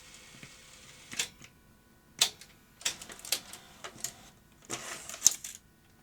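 A 1987 JVC BR6600 professional VHS deck ejecting a tape: a run of sharp mechanical clicks and clacks in irregular clusters, close and fairly quiet, with no talking.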